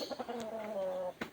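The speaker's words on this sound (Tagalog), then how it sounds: "May dalawa akong kapipisa lang na pato" Newly hatched ducklings giving a close run of short, high chirping peeps with one longer drawn-out call, set against a quiet farmyard background.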